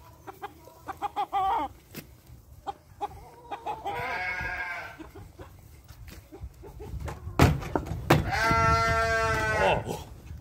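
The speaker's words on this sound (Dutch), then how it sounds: "Oh, horen jullie de schapen ook?" Sheep bleat in long wavering calls, two strong bleats midway and near the end, mixed with clucking chickens and scattered short farmyard noises at close range.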